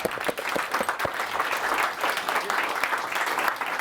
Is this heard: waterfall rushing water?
no